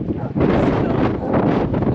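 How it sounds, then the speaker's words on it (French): Strong wind during a 4x4 road trip in the Picos de Europa mountains of northern Spain, a loud sustained rushing roar buffeting the microphone with a brief dip near the start. "je pense que vous pouvez l'entendre, le vent s'est bien levé"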